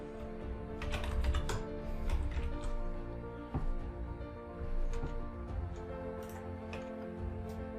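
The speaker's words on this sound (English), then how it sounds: "I'll type this." Computer keyboard typing: scattered light key clicks, some in quick runs, over a steady low electronic hum, with no talking.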